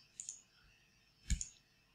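Two soft key clicks from a computer keyboard during a Control M shortcut press, the first a quick double tap and the second a slightly louder pair about a second later, close and quiet.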